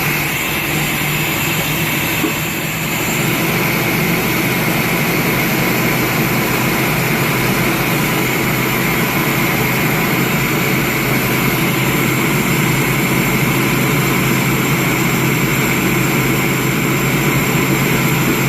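An old vehicle's engine runs rough at idle, a steady loud droning rumble with uneven fluttering texture that holds for the whole stretch, with no voices.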